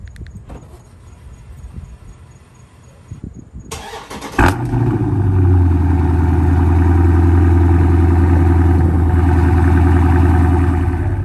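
A Dodge Scat Pack fitted with a cold air intake sits quiet with faint shuffling, then cranks and fires up abruptly, settling into a loud, deep, steady rumbling idle close by.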